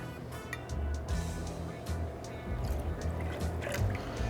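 Plain tomato juice pours steadily into a metal jigger for a Boston Bloody Mary, a close, continuous liquid splash and gurgle lasting a few seconds with faint background noise.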